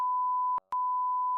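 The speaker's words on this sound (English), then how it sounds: "I'll blur those names and I'll beep the sound" Censorship beeps cover spoken perfume brand names: a loud steady pure tone sounds twice, split by a short gap, with faint fragments of speech at the edges.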